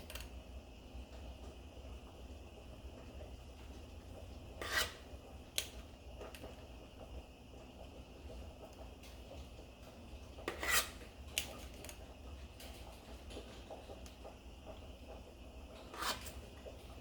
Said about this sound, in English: you're just going to scoop out some of that mixture into each shell